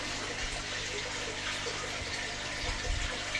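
Steady running water pours throughout during a water change on a fish tank holding Cuban fish fry, a continuous broadband rush with a few low thumps near the end.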